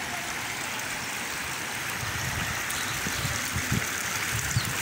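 Caño Batallador, a stream swollen after heavy rains in Portuguesa, rushing in a constant close wash of water with a few heavier splashes and gurgles toward the end.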